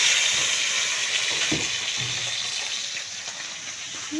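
Tilapia frying in hot cooking oil in a pan gives a steady, close sizzle with a few soft bubbling pops partway through and no talking.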